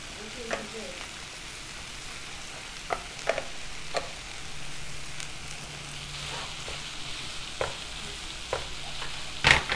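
Cheese melting over high heat in a hot pan for tacos, a soft, steady sizzle with scattered light pops and ticks, fairly quiet and up close.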